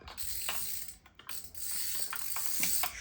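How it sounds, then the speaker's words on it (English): Wrench working a small nut loose on a 1975 Johnson 9.9 hp outboard, heard as short, repeated clicking ratchet strokes with brief pauses between them, close and moderately loud. "you're gonna have to keep flipping the wrench around because you can only do little short"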